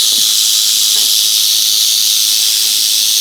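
A five-foot pet rattlesnake gives a continuous, loud, high-pitched rattling buzz, steady and unbroken, heard up close with only faint handling noises beneath it.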